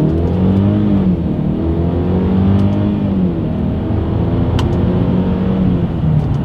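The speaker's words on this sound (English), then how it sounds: "we're gonna do a little combination of the paddle shifter and acceleration test here" A 2022 Mercedes-Benz GLE 350 SUV accelerating during a paddle-shift run, heard from inside the cabin. Its engine drone rises steadily, dips briefly at each shift and climbs again, loud and continuous throughout.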